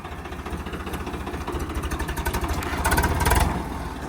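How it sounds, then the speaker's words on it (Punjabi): A diesel tractor engine chugging nearby with a pulsing, throbbing rhythm that rises slightly in intensity before easing back. "ਕਰਾ ਟਰੈਕਟਰ ਸਟਾਰਟ ਹੁਣ"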